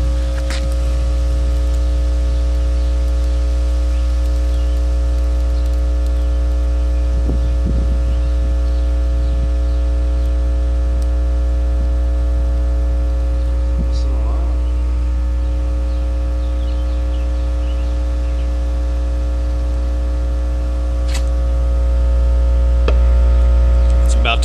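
A loud, steady low mains hum drones continuously from an Alpine Type X 12 subwoofer wired to a 120-volt wall socket with one coil connected, with faint crackles and buzzing overtones, nearly unchanging throughout.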